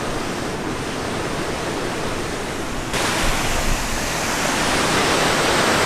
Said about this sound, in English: Waterfalls and shit.